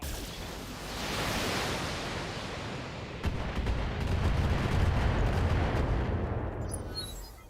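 Lasers and LRM missiles fire in the mech combat game BattleTech as a dense roaring rush of launch noise, swelling and rumbling heavily with crackling bursts for several seconds before fading.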